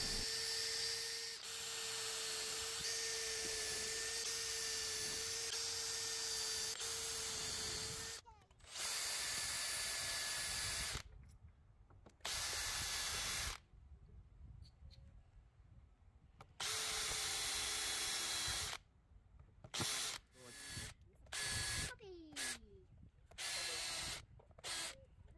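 A power drill drives screws into wood, with long steady whirring runs broken by pauses and then short stop-start bursts near the end, fairly close and without talk.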